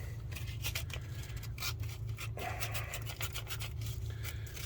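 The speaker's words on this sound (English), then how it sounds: "just sanding the points" Sandpaper rubbing the ignition points in the distributor of a Ford 429 big-block V8 in a 1967 Ford F100, producing quick rhythmic scratchy strokes, close and faint over a low background hum.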